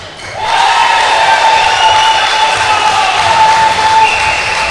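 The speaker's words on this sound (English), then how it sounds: "Big cheer from the crowd" A netball crowd at an under-21 England versus Northern Ireland match erupts into loud, sustained cheering and applause that holds steady for several seconds, with shrill whistles or horns running through it.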